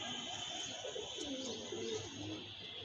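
A young pigeon chick in a loft calls with soft, repeated cooing notes over a steady background hum, fairly close and moderately loud throughout.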